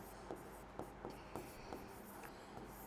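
Examples written out by hand during a Hindi grammar lesson, a quiet series of short scratchy pen or chalk strokes in an uneven rhythm, about seven distinct marks close by with no voice over them.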